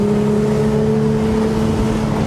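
A 2019 Porsche 911 Speedster gives a steady, loud engine drone with a low exhaust rumble, held at a constant idle-like pitch, close up.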